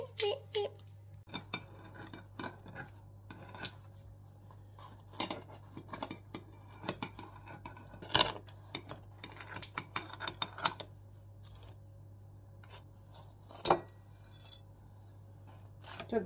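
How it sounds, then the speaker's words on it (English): Sharp snips and clicks of kitchen scissors cutting pizza, scattered irregularly amid clinking of plates and cutlery, with a steady low hum underneath. "who else uses kitchen scissors to cut their pizza up?"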